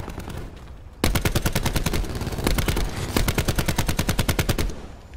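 Rapid bursts of automatic gunfire from Call of Duty Black Ops 4, loud and close, a dense stuttering stream of shots that pauses briefly and resumes, with no talk over it.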